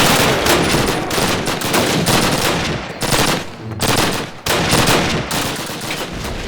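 Sustained machine-gun fire rattles loud and close in a Call of Duty battle at Red Square, a dense barrage broken by a few brief pauses, with no voices.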